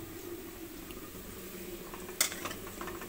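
Chicken frying in a pan with ginger garlic paste, a steady low sizzle under soft stirring, and one sharp metallic scrape near the end, close and fairly quiet.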